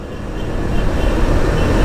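Trucks pass along a road in a heavy low rumble that builds steadily louder as a vehicle draws near, with no talking.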